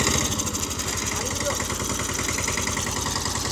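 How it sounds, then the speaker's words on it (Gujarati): A tractor engine running, driven by a father, a steady close mid-pitched throbbing idle with regular pulsing beats throughout, no talking over it. "આપણા પપ્પા હાંકે છે એ ટ્રેક્ટર"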